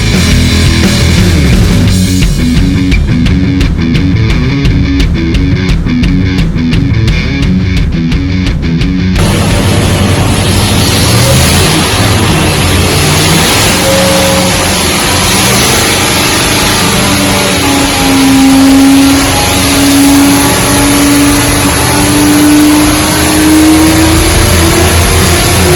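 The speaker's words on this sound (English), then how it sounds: "you'll see a Whipple supercharged motor that makes 1400" A Whipple supercharged engine making 1400 horsepower on pump gas runs loud and steady, revving and droning continuously with a rising whine, no talk over it.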